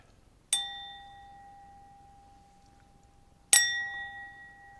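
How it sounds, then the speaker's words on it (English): A wine glass is struck twice, about three seconds apart, each hit giving a bright ding followed by a clear, pure ringing tone that slowly fades. "wine glass vibrate the way it does when it gets hit"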